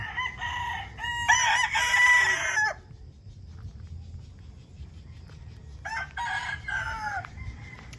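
A rooster crows loudly and close by, pauses in near silence, then crows again; no one speaks.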